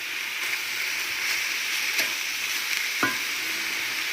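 Ground lamb seasoned with five spice frying in a pan, a steady bright sizzle running throughout with a few soft scrapes and taps of a spoon stirring the meat, close and alone with no talk.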